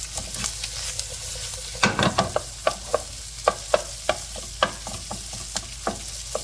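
Cooked rice is stir-fried in a hot pan for spicy, garlicky Singapore fried rice: a steady sizzle with a quick run of regular scraping taps from the spatula, close-up and with no talking.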